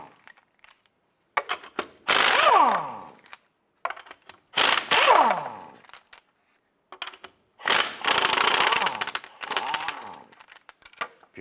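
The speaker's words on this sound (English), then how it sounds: "Using a 19mm socket, let's go ahead and remove the lug nuts." An impact wrench with a 19mm socket zips lug nuts off a 2001-2005 Honda Civic wheel in three separate whirring bursts, close and loud, with short pauses between them and no talking.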